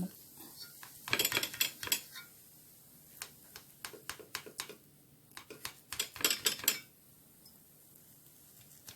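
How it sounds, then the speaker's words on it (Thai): Clinking of utensils and kitchenware, with scattered knife-like taps and scrapes in bursts against a board as a fried omelette is cut into bite-sized pieces, close by with quiet pauses between. "นี่จะมาหั่น เป็นชิ้นๆเป็นชิ้นๆพอดีคำ"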